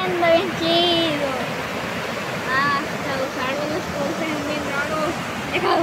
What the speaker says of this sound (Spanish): Miren eso, el agua como va cayendo, bien chido.